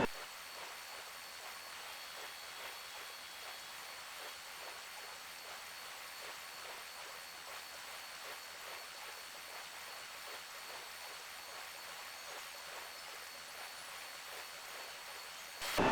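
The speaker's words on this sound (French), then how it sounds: "on va baisser l'hélicoptère à son maximum" A rescue helicopter in the game SAR4 hovers low over the water, its rotor and turbine making a constant loud broadband roar that stays even throughout with no voices.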